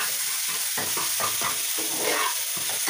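Burnt dried fish (shutki) stirred in a hot pan: a constant soft hiss and sizzle with rhythmic scraping strokes of a spatula repeating about twice a second, close and alone without talk.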